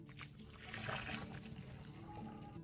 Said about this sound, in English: Then carefully pour the water out.